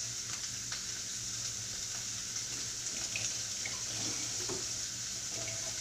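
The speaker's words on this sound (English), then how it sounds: "while this is kind of searing away" Beef rouladen sears in a hot pan with a steady, even sizzle that hisses on without pause, nearby and moderately loud, with a few faint clinks and scrapes from tongs.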